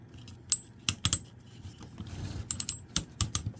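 Plastic ratchet joints of a King Arts Black Getter action figure click in a series of sharp, close clicks, some in quick pairs, with faint handling noise between.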